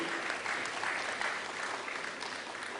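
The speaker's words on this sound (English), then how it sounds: "Let's have a round of applause" Audience applause at a ceremony fills the space as a dense, sustained wash of many hands clapping, steady and fairly loud from start to finish.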